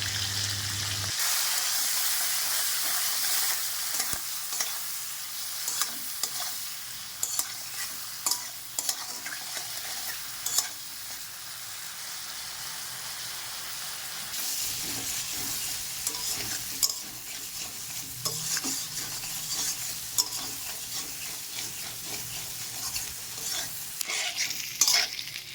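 Prawns fry in mustard oil in a wok while being stirred, a continuous close sizzle broken by repeated scraping and clinking strokes of the spatula at an uneven rhythm, with no talking.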